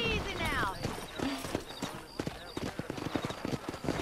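A horse in Red Dead Redemption clip-clops along at a steady pace with a brief whinny near the start, while a person talks over the hoofbeats.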